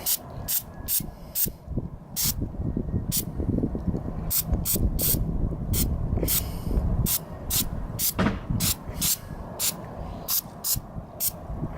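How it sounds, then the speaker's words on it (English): Carburetor cleaner sprayed onto a dirty scooter carburetor in a run of quick, sharp hissing bursts, close and fairly loud, over a steady low clatter of nearby mechanical noise. "I'm just going to spray the carburetor cleaner on it."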